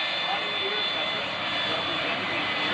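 Frank Ryder's jet race car, 10,000 horsepower with 6,000 pounds of thrust, roars with a loud, steady jet-engine rush at a military open house.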